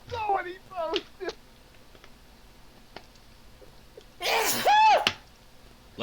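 A sneeze bursts out near the end, loud and close, following a stretch of quiet with bits of voice at the start.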